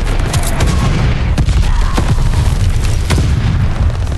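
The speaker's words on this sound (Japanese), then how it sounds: "敵の滑空爆弾が近づいている" An enemy glide bomb explodes in Call of Duty: Vanguard on the Das Haus map during an 8v8 Blitz match, among loud, dense booms and rattling gunfire that run without pause from start to finish.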